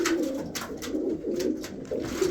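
Pet pigeons coo in low, rolling repeated calls close by, a steady soft murmur with faint higher chirps from babies mixed in, no talk.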